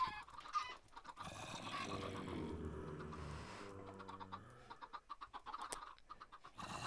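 Chickens cluck in a Minecraft modpack game, a close run of repeated clucks with a drawn-out squawk in the middle, heard alone without talk.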